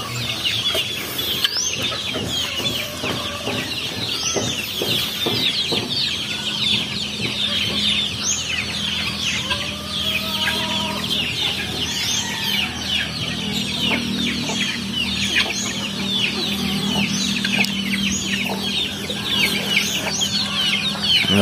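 Flock of farm chickens, including broilers, keeps up continuous close clucking and chattering, with occasional crowing from a rooster somewhere in the yard.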